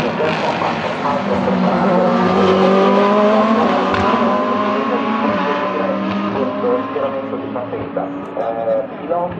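Hypercars and GT3 race cars lap the Imola circuit during WEC six-hour free practice, engines screaming and shifting continuously at close range, with an Italian commentator's voice mixed in throughout.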